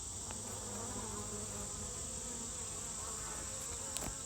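Honeybees buzzing around an open hive during an August inspection of frames with new comb, nectar and larvae: a dense, continuous close drone that holds steady throughout with no talk.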